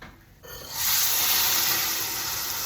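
Water is poured into a cooking pan holding vermicelli, a steady broadband splashing that starts after a brief quiet moment and stays loud and constant to the end.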